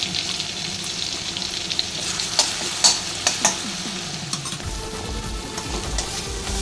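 Green chilies and garlic fry in a pan with a loud, continuous sizzle, broken by a few sharp stirring scrapes and clanks partway through.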